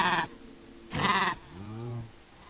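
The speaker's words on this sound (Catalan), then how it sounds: "tu a una llama la pots domesticar igual que un cavall" A llama in the Minecraft video game gives two short bleats followed by a lower drawn-out wavering cry, clear and close with quiet gaps between.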